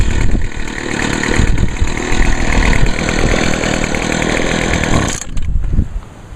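A Poulan Pro PP125 gas string trimmer runs loud and close with a rough, uneven, bogging two-stroke buzz that wavers throughout, then drops away near the end and briefly picks back up.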